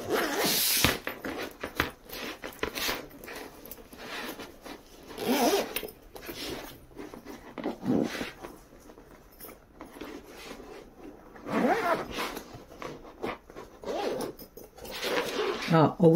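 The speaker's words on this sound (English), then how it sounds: "I might zip it up." A zipper on a sewn fabric piece is pulled in repeated short, raspy bursts spread through the clip, with a person talking quietly between and over them.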